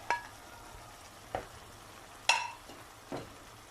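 Garlic dropped into a pan for chicken sauté fries with a soft sizzle, punctuated by four sharp clinks and scrapes of a utensil against the pan, close and with no talking.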